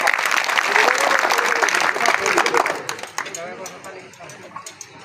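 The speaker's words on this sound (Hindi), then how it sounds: "सब इनके लिए जोरदार तालियां" Audience applause at a National Safety Week event in Jamnagar, a dense burst of many hands clapping loudly for a few seconds, then thinning and fading out.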